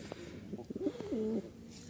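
A pair of Rajshahi Tiger Giribaz pigeons coos close by, with soft, throaty rolling calls that swell and dip over about two seconds, alone with no talk.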